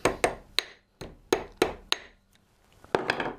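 A hammer taps a small lead fishing weight flat, sharp close strikes in a loose rhythm, about eight blows with a short pause midway.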